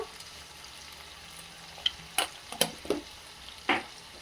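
Spoon stirring garam masala into drumstick pods frying in a pan, a series of scraping strokes over a faint, steady sizzle, fairly quiet and close, with no talk.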